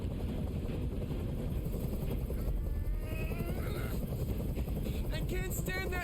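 A helicopter in the game Detroit: Become Human thrums as a steady low rotor drone throughout, with wind-like noise and faint higher tones layered over the rumble.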